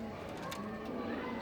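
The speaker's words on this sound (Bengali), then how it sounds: "এই যে আমার কবুতরগুলির অবস্থা।" Pet pigeons coo softly in a home loft, a low, faint purring call that is heard briefly against quiet background noise.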